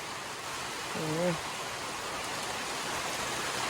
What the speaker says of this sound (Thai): ฝนตกแต่เช้าเลยนะ